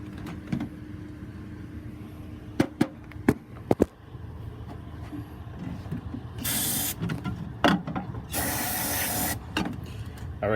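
Starting fluid sprays in sharp hissing bursts into a 2002 Dodge Ram 3500 utility truck that fails to start, with clicks and clunks as the engine is cranked.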